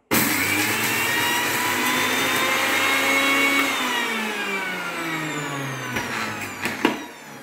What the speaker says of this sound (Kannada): ಗ್ರೈಂಡ್ ಮನ್ಪುಗ ಮತ್ತೆ ಮಿಕ್ಸಿ ಜಾರ್ ದೀಕ